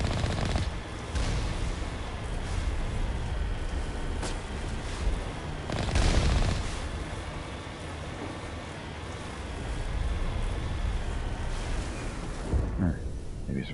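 Gunfire in Mass Effect Legendary Edition during a biotic run, with repeated sharp shots and bursts over a dense, continuous combat din, strongest around the sixth second before thinning out near the end.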